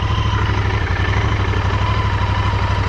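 A Royal Enfield GT 650 cafe racer motorcycle runs steadily on a slick road, its engine giving off a constant, close, loud throb with no voices.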